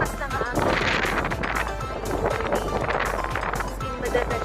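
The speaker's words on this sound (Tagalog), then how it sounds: "Sobrang lakas ng hangin." Strong winter wind roars steadily and close against the microphone outdoors near a Don Quixote store, a dense rushing buffet throughout with gusting surges.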